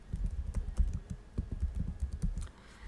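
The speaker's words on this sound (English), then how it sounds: "we will be typing Hello World." Fast, irregular clatter of keys typed on a computer keyboard, close and fairly quiet, a dense run of clicks that thins out near the end with no voice.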